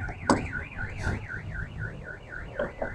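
A car alarm blares at an outdoor car bazaar, a loud warbling siren sweeping up and down in steady rapid cycles, with a few clicks and bumps of background noise.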